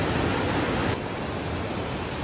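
A waterfall roars as a dense, steady rush of falling water, loud and close, with no voices.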